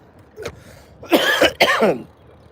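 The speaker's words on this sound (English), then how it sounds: "But this cough might be the death of me." A person coughs: one light cough, then two heavy, raspy coughs in quick succession, close and loud.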